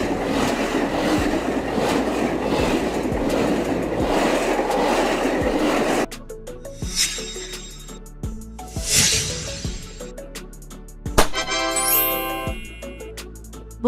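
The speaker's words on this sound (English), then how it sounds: "Double-decker train." Double-decker train running on rails, a steady loud rumble at first, then rhythmic clickety-clack of wheels over rail joints with intermittent squeals and clanks.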